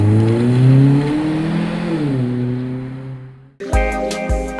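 A taxi in Taiwan speeds along with its engine droning loud and close, the pitch rising and falling as it accelerates, before an abrupt cut to a harsher, clattering motor noise.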